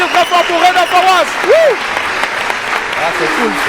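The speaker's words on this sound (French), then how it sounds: "Je vous demande d'applaudir très fort pour Reda Fawaz." Studio audience applauding a guest on a French talk show, steady clapping throughout with whoops and tonal cheers rising above it, a voice exclaiming amid the noise.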